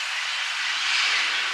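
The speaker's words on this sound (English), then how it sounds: "And there's the train." Train at the Port Huron depot, giving off a steady, loud, close hiss like venting steam that holds evenly without a break.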